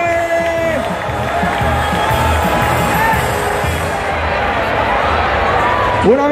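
A festive Oktoberfest crowd in Barcelona cheers, whoops and applauds a prize winner named Julio, a steady roar of voices and clapping with music and chatter mixed in, ending in a sharp shout.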